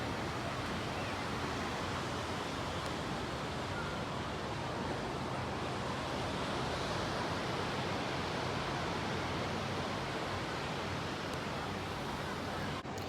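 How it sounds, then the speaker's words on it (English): Steady, loud roar of ocean surf at Gulf Shores, Alabama filling the whole clip, a continuous broadband wash with no distinct breaks or voices. "It's kind of loud too, like the ocean's super loud, like the waves."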